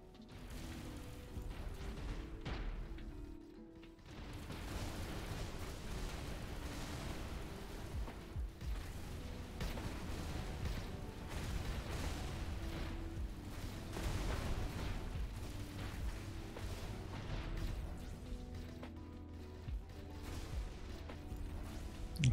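Space combat in the video game Avorion, with a continuous rumbling mix of shots and muffled explosions that rolls on at fairly low level, broken by brief lulls, with no talking.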